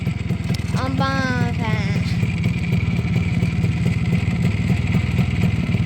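A motorcycle engine revs up under throttle as the rider pulls away from a standstill on grass, a steady loud mid-pitched drone throughout with a brief voice over it near the start.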